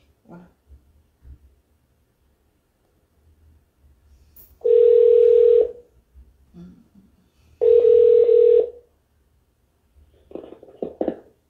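A phone call's ringback tone sounds in two long, loud, evenly spaced buzzes, set between faint clicks and brief bits of quiet voice.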